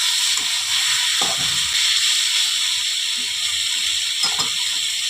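Mourola fish curry with potato and brinjal cooking in a pan after slit green chillies go in, a steady close hiss and sizzle with a few faint clinks and taps of a utensil, no talk.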